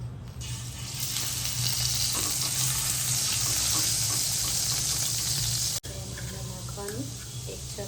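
Butter and oil melt and sizzle in a kadai after paneer has been fried in it, a loud continuous crackling sizzle that breaks off briefly near the end before resuming.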